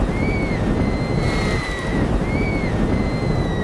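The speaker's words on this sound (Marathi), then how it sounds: "एक दिवस जंगलात मोठं वादळ आलं" A thunderstorm sweeps through a cartoon jungle with heavy, continuous rain hammering down, low thunder rumbling throughout, and thin high tones drifting over the downpour.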